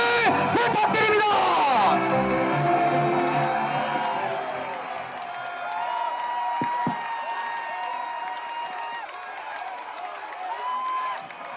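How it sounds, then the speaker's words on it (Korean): Crowd at a political party rally cheering, whooping and applauding loudly for a party leader's introduction, a dense roar that stays strong and slowly tapers. "여러분 큰 박수와 함성을 부탁드립니다"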